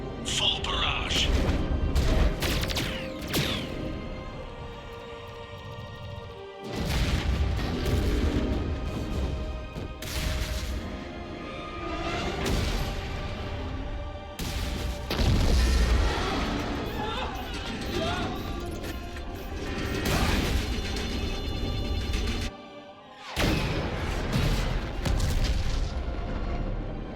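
Spaceship fleet fires a full barrage in the Mass Effect 3 video game, with heavy booming blasts and crashing impacts rolling on almost continuously, broken by a couple of brief gaps, loud and dense throughout.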